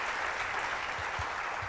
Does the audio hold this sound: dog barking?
no